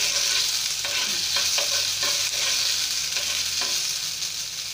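Onion and garlic paste fries in a pan for chicken masala, a steady loud sizzle with repeated scraping strokes of a spoon stirring through it, close up and with no talking.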